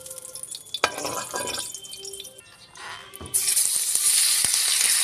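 Pork belly slices dry-roasting in a hot pan with no added oil, scattered pops and spatters with clinks of a utensil, then a loud steady sizzle rising and holding through the final seconds.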